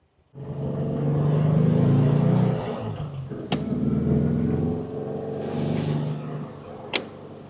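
Refurbished Porsche 356 driving on mountain roads in Japan, a steady mid-pitched engine note that swells, eases and holds near the microphone, with two sharp clicks or knocks along the way.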